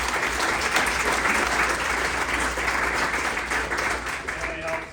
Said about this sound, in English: I do want to give one last round of applause to our presenting sponsors, CSI and St. Luke's